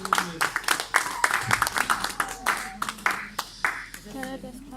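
A church congregation claps and applauds in praise during a prayer service, scattered irregular hand claps mixed with voices calling out, fairly close and lively.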